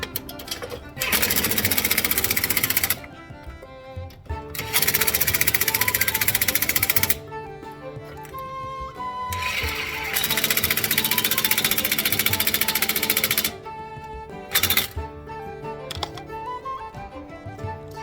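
An impact gun tightens the wheel hub bolts on a 2009 Chevrolet Malibu during a front hub bearing job, firing in three long, loud, steady bursts separated by short pauses, with a brief final burst near the end.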